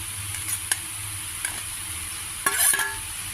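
Spinach and sweet potato curry with mustard is stirred in a hot pan, a soft continuous sizzle broken by a few sharp scrapes and clinks of the spoon, with a louder scraping burst near the end.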